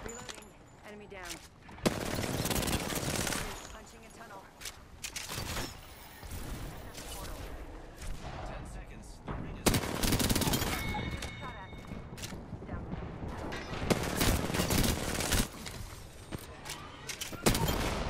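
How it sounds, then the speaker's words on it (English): Video game shootout with repeated close gunfire bursts and scattered shots throughout, loud and fairly continuous, mixed with game effects and occasional voices. "Getting shot at."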